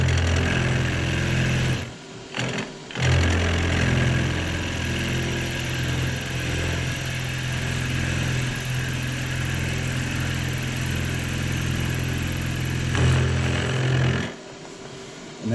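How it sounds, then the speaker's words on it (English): A metal milling machine cuts metal in an artist's studio with a loud, steady mechanical drone and hum. The sound drops out in short gaps near the start and again at the end. "That's how the mill works."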